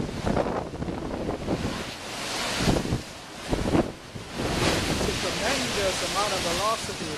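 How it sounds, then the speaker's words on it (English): Waves crash and surge onto a Bahamas beach during Hurricane Irene in 2011, amid heavy wind buffeting, with loud broadband rushes rising and falling several times. "There the waves crashing."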